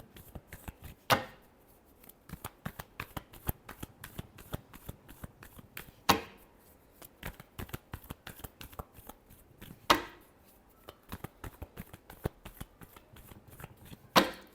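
Tarot cards are shuffled over and over in a steady run of crisp riffling taps. Louder bursts mark a few full riffles, and no voice is heard.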